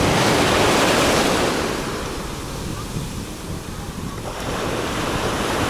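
Sea waves wash onto a beach in Alanya in a continuous broad surf roar. Heavy wind buffets the microphone, and the sound swells, eases and swells again.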